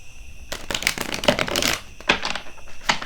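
Playing cards being shuffled up close, a series of quick riffling bursts and soft slaps in uneven rhythm, with no voices.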